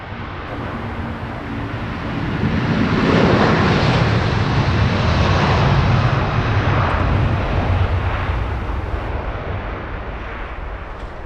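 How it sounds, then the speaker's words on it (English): A Virgin Airbus A330 takes off down the runway at Heathrow. The jet's roar builds to a loud, broad rush, holds steady, then eases slightly as it moves off, with no talking over it. "As we watch this Virgin A330 charging down the runway off to Tampa."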